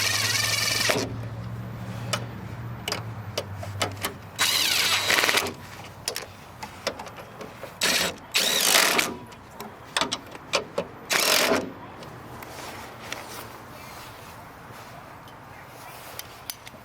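A power tool tightens a motor mount bolt on a Hyundai Elantra in several short, loud whirring bursts spaced over the clip, with a low engine-like hum early on and quieter clatter between.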